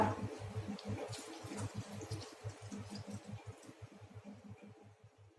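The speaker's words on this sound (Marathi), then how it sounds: "गरम केलेले पाणी टाकूया।" Hot water pours into a simmering guar bean curry with faint, continuous low gurgling and bubbling that stays quiet throughout.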